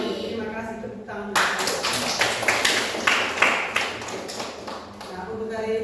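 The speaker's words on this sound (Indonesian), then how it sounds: "Terima kasih, tepuk tangan." Students in a classroom break into a burst of hand clapping lasting several seconds, dense and fairly close, then trailing off.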